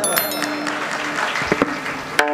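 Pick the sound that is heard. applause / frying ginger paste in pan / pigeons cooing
applause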